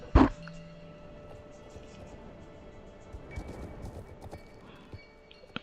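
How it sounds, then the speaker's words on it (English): Faint, rhythmic hoofbeats of horses moving at a quick pace under a quiet ambient hum, after a sharp thump at the start, in Star Stable Online. "Oh, the horses."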